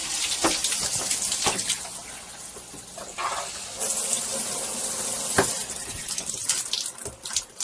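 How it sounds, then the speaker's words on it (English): Water mixed with glycol antifreeze sprays steadily from a camper shower head during winterizing, a continuous hissing splash that surges and wavers, with brief knocks and louder bursts partway through. "And we have water coming, glycol coming out of the shower head."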